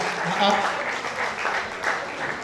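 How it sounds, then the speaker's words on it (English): An audience claps at an awards event at Ibadan University, a continuous crowd patter under a voice talking over it. "The clap should be louder now."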